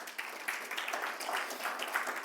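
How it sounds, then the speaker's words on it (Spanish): A church congregation applauds in a steady, faint wash of many hands clapping at a Sunday service, continuous and distant throughout. "¿Cuánto le damos un aplauso al Señor?"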